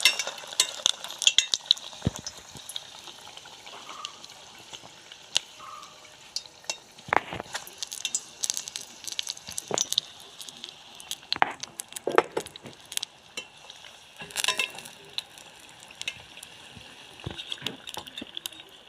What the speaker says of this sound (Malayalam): എണ്ണ ചൂടായി നമുക്ക് അതിലേക്ക് ഇട്ട് നമുക്ക് തിരിച്ചിട്ട് കൊടുക്കാം